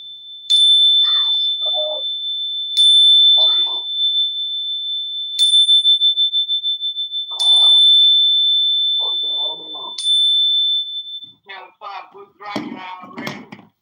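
A Zen bell rings several times in a row, each strike a sharp bright chime with a long sustained tone, and a person talks in the gaps and over the ringing toward the end.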